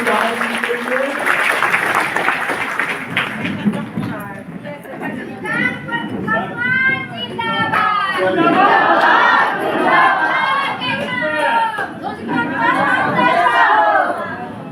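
Members at an Anganwadi workers' state committee meeting raise slogans together, with loud rhythmic shouted chanting and crowd chatter building over several seconds, joined by scattered clapping.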